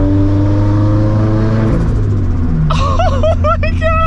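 Project car with a boosted engine idling and rumbling loudly as it rolls up to a parking spot, a steady low drone with a brief rise near the end, with no clear talk over it.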